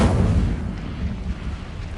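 Incendio fire spell cast in Hogwarts Legacy, a loud booming burst that fades into a rumbling, crackling roar over about two seconds.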